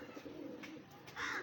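A pigeon coos softly in short, faint murmuring phrases, one of a kept pair, with a slightly stronger call near the end.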